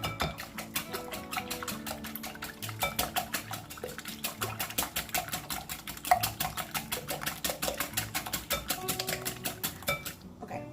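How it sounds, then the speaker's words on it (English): Eggs whisked in a bowl for brioche French toast, a steady fast rhythm of clicking taps from the whisk against the bowl, close and continuous, with no talking. "So I'm gonna start by just whisking my eggs."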